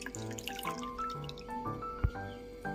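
Water drips from washed flattened rice as it is pressed to drain. Close, quiet plinks and drops fall in an irregular patter, with one sharper splash midway. No one speaks.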